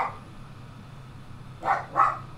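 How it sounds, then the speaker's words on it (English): A dog gives two quick, short barks indoors. The barks are muffled and moderately distant and stand out briefly against a low background hum. "Excuse my dog."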